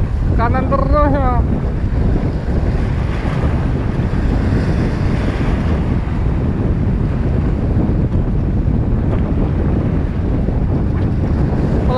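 Strong wind roars and buffets the microphone steadily at a marina in Semarang, a loud continuous rushing with water and boat noise beneath it and a voice briefly speaking near the start.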